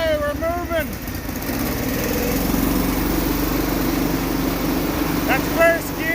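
Case XC210 riding lawn mower, revived after sitting over 15 years, drones steadily as it drives, its engine rumble constant and close, with people's voices and whoops at the start and end.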